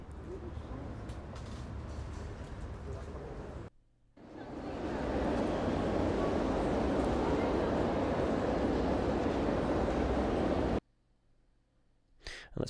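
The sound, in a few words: outdoor cafe ambience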